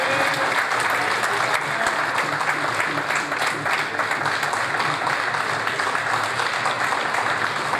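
Sustained audience applause fills a Gujranwala event hall as a guest is welcomed onto the stage, a dense, steady wash of many hands clapping at even loudness throughout.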